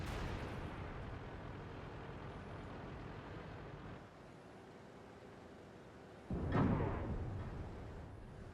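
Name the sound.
tank cannon fire in World of Tanks video game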